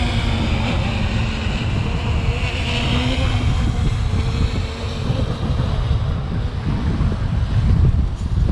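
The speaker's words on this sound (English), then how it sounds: "Got 20-mile-an-hour wind coming right at us" A strong 20 mph wind buffets the microphone outdoors, a loud, steady broadband roar with gusty rumble that holds for the whole stretch, with no voices.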